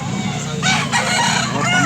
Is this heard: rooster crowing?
yes